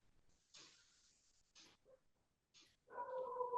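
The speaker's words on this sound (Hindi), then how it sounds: "जिसके यहाँ डॉग ये भौंक रहा है ना" Dog barking inside a student's home, heard faintly over an online class connection, with a few short breathy bursts followed by a longer whining, whimpering sound.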